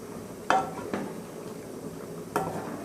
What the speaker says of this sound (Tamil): விழுதை சேர்த்துட்டு நல்லா கலந்து விட்டுடலாம்.